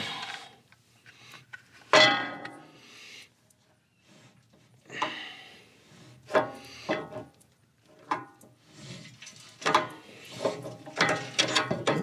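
A wood chipper attachment shaft behind an LS tractor is turned back and forth by hand to line it up, giving intermittent ratcheting, clanking mechanical bursts separated by short pauses, close by.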